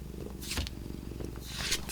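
A house cat purring up close, a soft continuous low rumbling pulse with a faint breathy hiss, steady and intimate, no voices.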